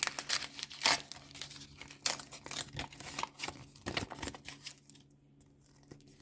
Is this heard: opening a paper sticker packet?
yes